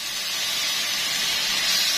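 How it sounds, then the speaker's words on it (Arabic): Meat is added to onions frying in a pan for Moroccan-style couscous, giving a loud, continuous hissing sizzle that swells slightly as it goes on. It is heard up close, with no speech. "سامعين صوت الطش ده؟"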